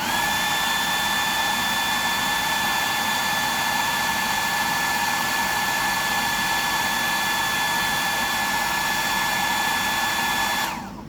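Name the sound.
hair dryer drying a custom fishing lure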